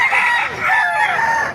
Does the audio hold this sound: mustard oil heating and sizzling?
no